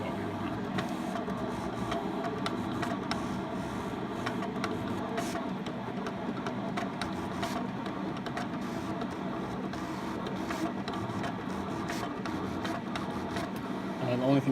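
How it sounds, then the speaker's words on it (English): A Vinyl Express GRC-61 vinyl cutter cuts a small design about three inches across, giving a steady mechanical whirring and buzzing with quick stepping ticks throughout, close and continuous under a talking voice. "what we should be seeing is our vinyl cutter going ham over here"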